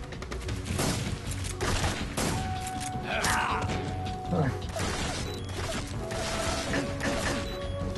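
Rapid gunfire bursts and sharp metallic impacts crackle through a firefight in Metal Gear Solid 3: Snake Eater, dense and continuous over low game rumble and clattering mechanisms.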